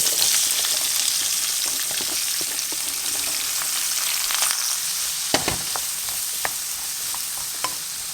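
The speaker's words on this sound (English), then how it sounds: "So we'll have to saute this well." Chopped onions with bay leaf, cinnamon stick, cardamom and cloves sauteing in a pot for mutton gravy, a loud continuous sizzle up close with occasional spoon scrapes and clinks as it is stirred.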